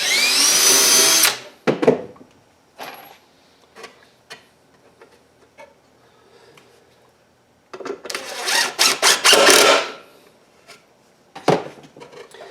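A power drill drives screws into the hinge of a wooden birdhouse in two whirring bursts, one at the start and a longer pulsing one later, separated by quiet handling clicks and taps.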